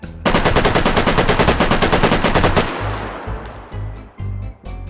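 A full-auto WWII rifle in the VR shooter H3VR rips off a loud, rapid burst of evenly spaced shots lasting a few seconds, followed by ringing decay and a few scattered single reports.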